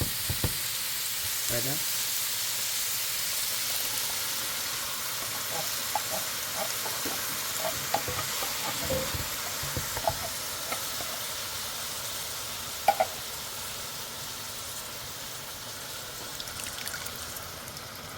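Crushed tomato stirred into a sizzling pot of lentil soup, with a steady close frying hiss and a few soft stirring knocks; a voice briefly speaks.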